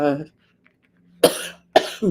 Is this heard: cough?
yes